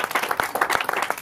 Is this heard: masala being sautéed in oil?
no